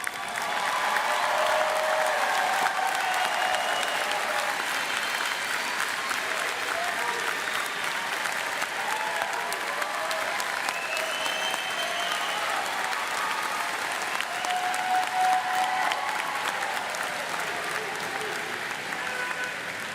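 A large crowd at the Drexel University 2015 commencement applauds its graduates in a sustained, dense wash of clapping that holds steady and loud for the whole stretch, with faint cheers mixed in.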